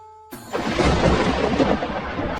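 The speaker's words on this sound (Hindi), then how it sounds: "ये बिना मौसम की गरजती हुई बारिश हमें क्या संकेत देती है?" Unseasonal thunder with rain bursts in suddenly and rolls on as a loud, dense rumble for about two seconds, close and heavy with no voices.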